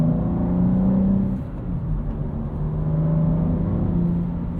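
A 2025 BMW M2 with 473 hp and a 6-speed manual cruises outside M mode, its engine a low, steady, subdued drone with a smooth rumble inside the cabin and no sharp revving.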